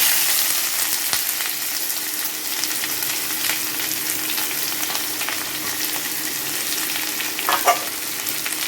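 Onions fry in hot oil with bay leaves and garam masala for dal tadka, making a steady, fairly quiet sizzle with scattered small crackles and pops.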